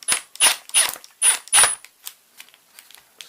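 A Milwaukee Surge hydraulic impact driver runs in five short, loud mechanical bursts in close succession, then trails off into fainter clicks and rattles, with no talking.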